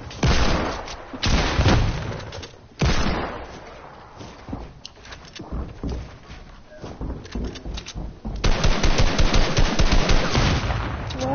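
Rapid bursts of gunfire in a team shooter game, loud repeated shots and heavy fusillades crowding together, with voices talking underneath.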